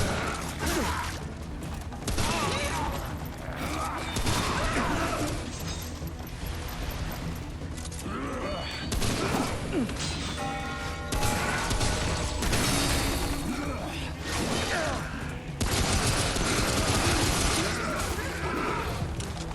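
Weapon reloading in the shooter game Remnant: From the Ashes, with loud, continuous mechanical clicking and clattering in a dense, unbroken wash of game sound that holds at a steady level throughout.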